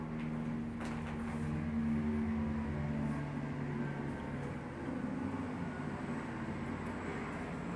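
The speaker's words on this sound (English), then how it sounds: "A helicopter is flying over." A helicopter passing over a valley neighbourhood, a steady low rumble with droning tones that stays constant throughout at moderate distance, heard from indoors with a faint wash of outdoor ambience.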